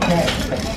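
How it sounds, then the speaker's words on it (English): A stirrer swirls a Negroni cocktail in a glass, giving a brief, close, steady scrape with faint tinkling. "now we're going to use the stirrer. Then stir it gently with a smile."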